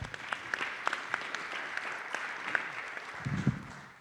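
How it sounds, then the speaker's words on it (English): Moderate audience applause at a summit session on AI, a soft wash of clapping with a few sharper nearby claps, briefly joined by a voice at the end. "I think that's worth a round of applause."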